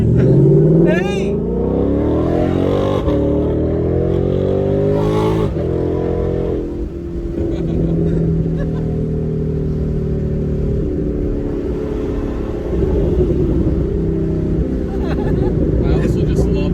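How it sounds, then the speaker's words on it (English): Ford Mustang GT V8 with an X pipe or H pipe exhaust burbling and popping through shifting revs, rising and falling engine tones with crackles, while people talk over it. "a natural byproduct of any Mustang is obviously the burbles and the pops from an X pipe or H pipe"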